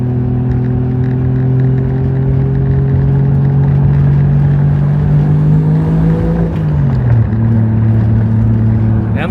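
A Toyota Supra MK3 on new coilovers drives along with a steady, loud engine drone heard from inside, its pitch dipping briefly partway through as it rolls on.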